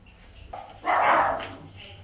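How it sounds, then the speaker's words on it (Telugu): Dogs at a small town house on the Gold Coast, Australia, let out one short, fairly loud burst of barking in the middle, with quiet surroundings before and after. "డాగ్స్ ఉన్నాయి వీళ్ళకి."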